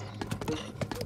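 A horse's hooves clip-clop in a quick, steady rhythm as it is ridden in the Breath of the Wild video game. The sound is close but moderately quiet, with faint game sounds underneath.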